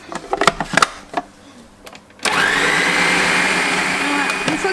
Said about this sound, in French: Et hop, on va mixer ça.